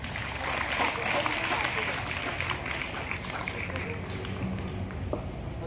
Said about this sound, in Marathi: टाळ्या वाजवायच्या सगळ्यांनी।